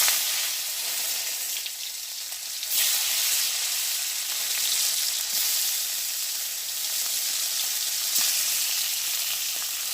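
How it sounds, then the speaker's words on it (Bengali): Fish, heads first, frying in hot oil in a wok (kadai) makes a steady, close crackling sizzle that rises and falls slightly for several seconds, with no talking. "মাছটা ভাজে নিই।"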